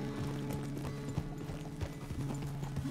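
Hooves of a horse clop at a trot in Red Dead Redemption 2, a quick, steady rhythm heard close under a soft musical background.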